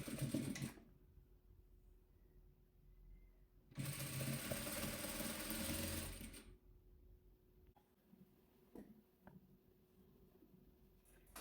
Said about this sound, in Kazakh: Енді осыларды бір-біріне тігіп аламын.